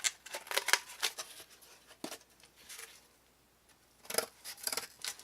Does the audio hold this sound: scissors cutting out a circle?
yes